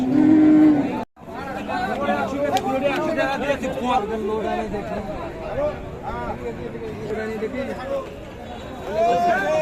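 Beef cattle lowing amid a busy crowd, with people chattering, haggling and calling out over each other in a noisy outdoor cattle market in Bangladesh.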